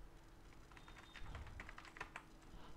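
Quick, light keystrokes on a computer keyboard in a quiet room, a brief flurry of about a dozen clicks over a faint background hum.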